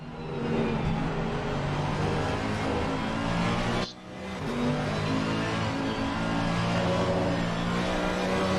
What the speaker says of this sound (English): as he gets that big brute of a Mercedes up and running